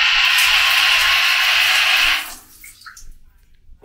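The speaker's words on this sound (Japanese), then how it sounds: "シャワーの水圧は実際どうなんでしょうか。" A hotel bathroom shower in Singapore runs loud and close for about two seconds with a full rushing spray, then shuts off into quiet drips and small water sounds.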